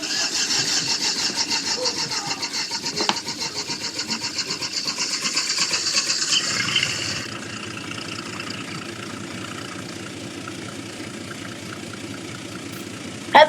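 A tractor engine in Farming Simulator 19 idles with a rapid, even chugging, louder at first, then settling into a quieter steady putter, ending with a brief click.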